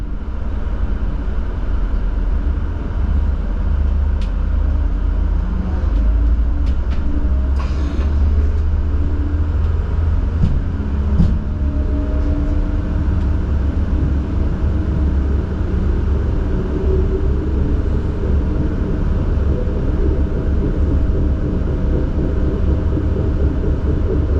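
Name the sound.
diesel railcar train departing station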